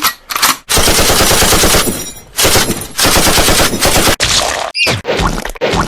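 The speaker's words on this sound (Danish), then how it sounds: "Lyn har skudt Red Eye ud af løbet med sin slimgun" Bursts of rapid automatic gunfire sound effects, loud and close, come in several long volleys separated by brief gaps, with a short whistling sound near the end.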